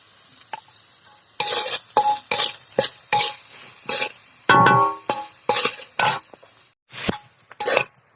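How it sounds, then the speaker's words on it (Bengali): Onion, chilli and garlic frying in a pan in a village kitchen, with a steady sizzle broken by repeated bursts of spoon stirring and scraping against the pan, close and fairly loud. "আমাদের পেঁয়াজ মরিচ আর রসুনটা সুন্দর মতো ভাজা হয়ে গেছে"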